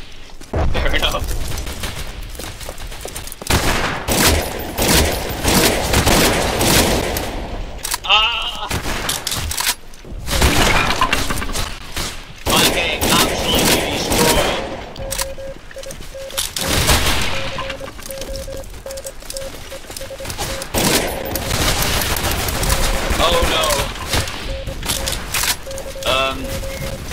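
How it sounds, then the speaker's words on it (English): Machine gun fire in the Roblox game Entrenched, rapid bursts of shots mixed with booms and battlefield noise, with a player talking over much of it. "Machine gun!"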